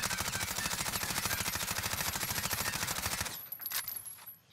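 An MP5 fires a long, sustained full-auto burst without stopping power rounds in the Warzone video game, rapid evenly spaced shots running for over three seconds before cutting off into a brief clattering tail.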